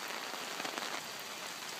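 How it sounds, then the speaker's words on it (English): Heavy rain pours steadily onto a backyard pond, a dense, even hiss of drops with no other sounds, fairly quiet and continuous. "Heavy rain."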